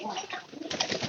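Domestic pigeons coo close by in a low, throaty, continuous burble that swells slightly toward the end, with no voices.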